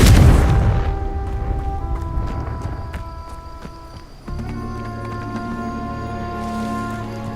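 A Confringo fire spell from Hogwarts Legacy goes off as a deep, loud boom at the start, decaying into ringing magical tones, followed by a second shimmering impact with lingering resonant hum.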